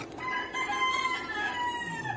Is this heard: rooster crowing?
yes